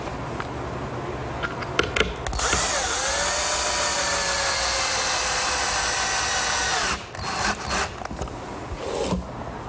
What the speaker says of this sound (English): I'll pre-drill 2 holes for those special fasteners that we used